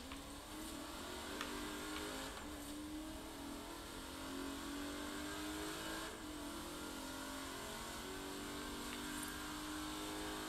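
A Porsche in the Forza racing game revs hard with wheel spin, a loud continuous engine roar rising and falling in pitch, heard alone without talk.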